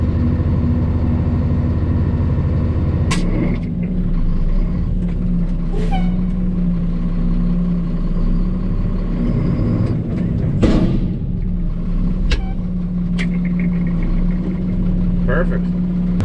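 A Volvo dump truck hauling dirt rumbles steadily as its engine pulls ahead, a constant low drone close by with a few sharp air-brake hisses and clunks breaking in.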